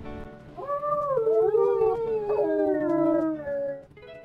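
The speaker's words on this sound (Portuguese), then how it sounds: "Vamos tentar uivar logo." A wolf howls in the video game WolfQuest, one long, close, wavering howl rising and falling in pitch for about three and a half seconds, with no talk over it.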